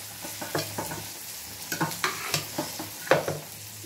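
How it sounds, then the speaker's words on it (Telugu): Koramenu fish pieces frying in hot oil, a steady close sizzle broken by repeated scraping and stirring clatters of a utensil against the pan, with no talking. "సూపర్గా ఫ్రై అయిపోతున్నాయి ఫ్రెండ్స్ చేపలు."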